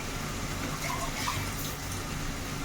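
Water poured into a pan of spinach masala while cooking palak paneer, a soft, steady splashing pour heard faintly against low background noise.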